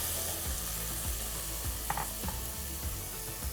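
Green beans sizzle in a pan with oil, cranberries and almonds, a steady soft frying hiss broken by periodic scrapes and knocks of stirring, close but fairly quiet.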